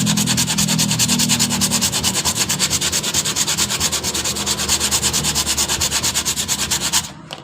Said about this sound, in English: one more sanding